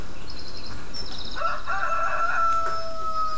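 A rooster crows in the farming game Farming Simulator 2013, one drawn-out cock-a-doodle-doo with clucking fowl nearby, loud and clear with no talk over it.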